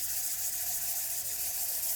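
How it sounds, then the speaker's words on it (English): Steady abrasive rubbing of sandpaper with oil against a turned wooden bowl spinning on a lathe, a continuous close hiss with no pauses and no talk. "I like to make sure that I'm applying the oil and I'm sanding at the same time"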